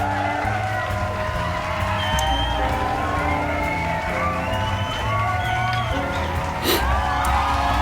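A live show crowd cheers, whoops and shouts in a steady, loud roar that holds throughout, with a few sharper yells and a short burst near the end.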